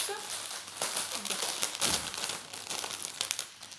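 A small plastic package with a sticker crackles and crinkles as it is handled and opened, close and sharp in uneven bursts, with a voice speaking French at moments.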